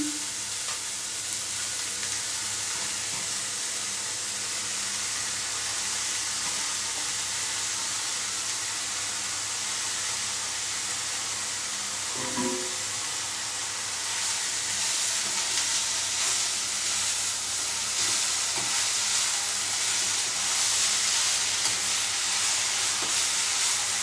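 Fenugreek leaves fry in hot oil in a pan for a methi paratha filling, giving a steady, even sizzle and hiss that carries on without a break and swells a little toward the end, with no one talking.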